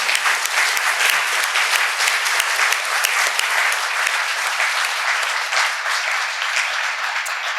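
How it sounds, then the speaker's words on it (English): An audience at a Supreme Court panel event gives a steady, dense round of applause for the panelists, sustained and fairly close for several seconds with no talk. "Let's give a round of applause to our panel tonight"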